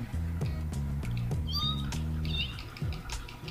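A cat meows in the video game No More Heroes, several short, close, clear meows in a row over a steady low hum, with faint sounds of a voice in the background.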